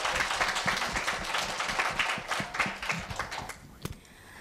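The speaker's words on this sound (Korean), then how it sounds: "마지막 발표를 뜨거운 박수로 맞이해 주시기 바랍니다" An audience at a middle school speech festival applauds to welcome the final speaker. The clapping is dense and steady, then thins out and ends with a few scattered claps.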